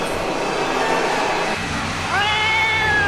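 A cat meows in an audio drama, with a few drawn-out, rising-and-falling meows in the second half over a constant rumbling vehicle-like background.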